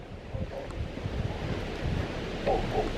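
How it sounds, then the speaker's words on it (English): Steady, blustery wind roars across the microphone with low rumbling buffeting, swelling in gusts over a continuous outdoor wash of noise. "So what's the strongest wind gust you think we had?"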